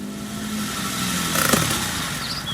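A human voice imitates a small, worn old car's engine, a buzzing, rumbling hum that swells briefly in the middle and then cuts off, heard up close with no other talk.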